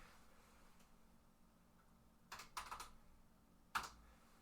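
Keystrokes on an Apple II computer keyboard, heard as a few short clustered clacks followed by one sharper single press, fairly close against a quiet, humming room, with no talk.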